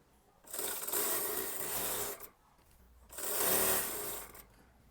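A sewing machine stitches the kali panel joint of an Anarkali kurti in two steady whirring runs of about two seconds each, separated by a short pause, close and moderately loud.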